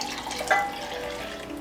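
Boiling water pours into a dough mixture of activated yeast and cold ayran, a short close splashing trickle with a brief louder gush near the start, alone without talk.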